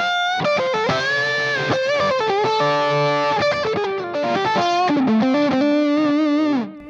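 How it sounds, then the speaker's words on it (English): Electric guitar through a Wampler Hot Wired v2 distortion pedal with a compressor engaged, played as loud, saturated lead lines and sustained notes in a continuous phrase that stays close and evenly driven throughout. "That distortion is really even, even with the compressor on."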